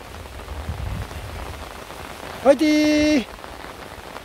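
Heavy rain on a mountain summit, a soft steady hiss of rainfall under a brief spoken cheer near the end.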